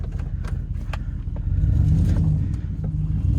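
An old truck with a struggling transmission rumbles close by, a low uneven drone that swells louder partway through as the drivetrain strains, with no voices.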